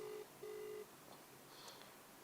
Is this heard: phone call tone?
yes